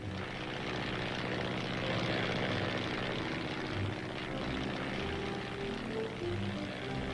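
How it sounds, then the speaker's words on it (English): A propeller-driven airplane starts to taxi across an airstrip, its engine droning loud and steady with a throbbing, rumbling pulse throughout and no voices. "the plane starts moving across the airstrip"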